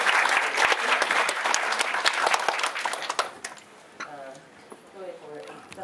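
An audience at a vTaiwan workshop claps to welcome a government minister, a dense burst of close, loud applause for about three seconds that thins and fades out, followed by a voice beginning to speak.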